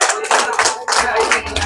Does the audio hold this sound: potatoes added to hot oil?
no